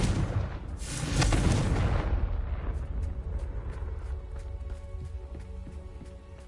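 Confringo blasting curse exploding in Hogwarts Legacy: a loud, close booming blast that rolls into a decaying rumble over roughly three seconds, followed by quieter tonal game sounds.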